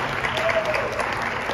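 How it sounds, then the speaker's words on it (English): An audience at a climate town hall applauds the panel, a brief dense burst of steady clapping heard fairly close and continuous throughout. "give us, I guess, a big round of applause"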